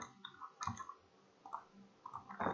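Quiet keyboard keys clicking in short irregular bursts as a search term is typed on a computer, faint and close with no talking.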